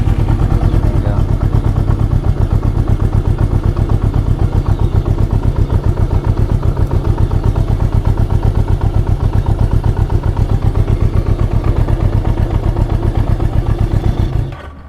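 A 1973 Honda CB350 Four motorcycle engine runs close and loud at a fast, even idle, with a rapid steady exhaust pulse and mechanical clatter throughout before cutting off at the very end.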